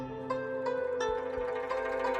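A Chinese guzheng sample heard dry, with no effects, plucked string notes ringing steadily over a sustained bed of tone at moderate level.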